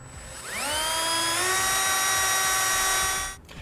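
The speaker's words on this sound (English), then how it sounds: "So I'm going to start by drilling a smaller hole." A power drill bores a small hole through a brace into the hard metal bumper core of a 2018 Jeep Grand Cherokee. The close, loud, high whine climbs in pitch as it spins up, holds steady for about three seconds, then cuts off.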